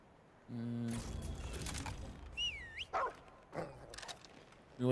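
A dog whimpers and yips softly in Remnant 2, giving short rising whines and breathy whimpers after a low synthetic tone, with game ambience but no speech.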